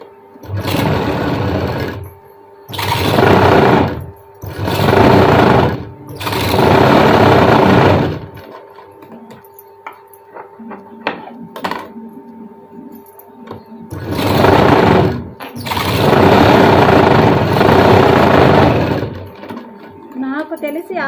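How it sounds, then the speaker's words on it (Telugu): Sewing machine stitching the cross belt of a blouse, running in several loud bursts of a few seconds each, separated by pauses with quiet handling sounds. "ఇది కూడా అలానే స్టిచ్చింగ్ అనేది చేసేసుకుందాం"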